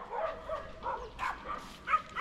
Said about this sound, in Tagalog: May aso dun.